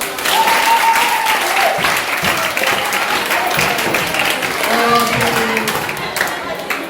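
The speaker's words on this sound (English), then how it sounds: "I want you to give a round of applause for yourself." Students in a lecture hall applaud together in loud, sustained clapping that fills the whole stretch, with some voices and whoops faintly mixed in under the claps.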